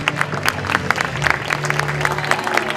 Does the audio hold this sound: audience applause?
yes